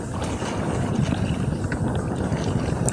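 Strong wind buffets the microphone on a fishing trip on the water. The dense, steady rushing stays loud and unbroken for a few seconds with no speech.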